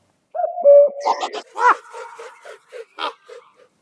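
A Eurasian jay calls up close, giving a loud series of harsh, rasping notes followed by shorter clipped calls in an uneven rhythm, with no other sounds.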